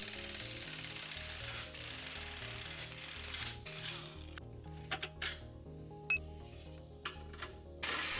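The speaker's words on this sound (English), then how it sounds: "Use a 21mm socket to remove both of the rear subframe bolts." A socket ratchet with a 21mm socket is removing rear subframe bolts while a car's front suspension is stripped. The ratchet gives quick repeated clicking close by, mixed with brief metallic clinks toward the end, and no talk.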